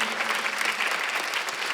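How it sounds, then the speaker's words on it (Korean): A church congregation at a Sunday worship service applauding, a dense, steady burst of clapping from many hands that fills the moment without any talk over it. "박수 한번 하세요"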